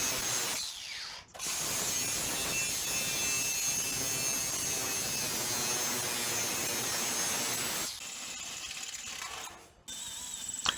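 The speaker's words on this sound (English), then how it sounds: "Drilling out the resistance welds," A power drill grinds continuously through metal, drilling out spot welds on a 1962 Chevrolet Impala door, for several seconds, stopping briefly and starting again, loud and close with a harsh mechanical rasp.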